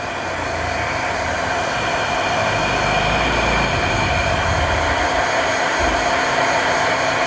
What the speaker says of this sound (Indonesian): yang penting kita panasin dulu pakai head dryer